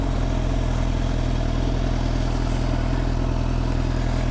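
A motorcycle ridden through city streets at a 40 mph limit, its engine droning loud and steady throughout with a rough, pulsing mid-range rumble and wind noise, heard up close from the rider's position with no talking.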